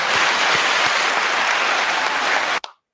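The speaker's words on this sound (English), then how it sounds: "Let's give it a round of applause." Dense applause from a crowd watching the Canelo versus GGG boxing fight fills the clip steadily and loudly, then cuts off abruptly near the end.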